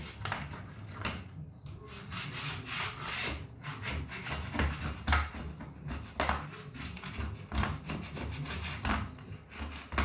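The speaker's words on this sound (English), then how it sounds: "what's nice about this plastic too is you won't fucking dig into the wood while you're trying to get excess glue off" A plastic scraper rasps excess glue off a wooden cutting board in a shop, giving repeated close scraping strokes in an uneven rhythm.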